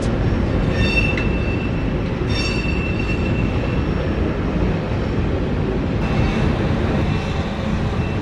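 Empty freight rail cars rumble past at a railway crossing in Plant City, with a loud, continuous clatter of wheels on track and occasional high metallic squeals riding over the steady roar.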